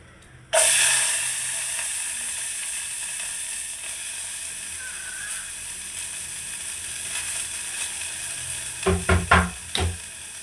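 Salt, chilli and cabbage dropped into hot oil set off a sudden loud, steady sizzle that hisses on for several seconds, followed near the end by a few clattering knocks of a utensil against the pan.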